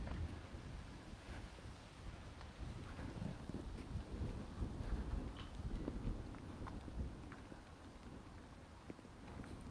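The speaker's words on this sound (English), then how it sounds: "let me show you how windy it is." Steady low rumbling wind buffets the microphone throughout, with faint scattered knocks and rustles, no voices.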